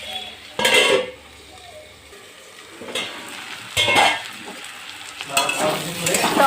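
Ivy gourd frying with chopped onion in a pan, with sizzling and a few sharp scrapes and clinks of a utensil stirring, in bursts between quieter stretches.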